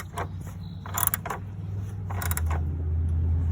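Wrench tightening a car battery hold-down, giving a few short metallic ratcheting clicks and creaks up close over a low steady hum.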